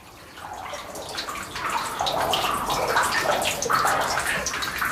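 Water rushing through a stone-lined levada irrigation channel on Madeira, a steady close splashing flow that grows slightly louder and fuller, with no voices.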